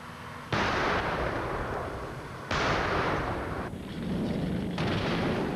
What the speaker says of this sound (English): And this time the cannon does fire,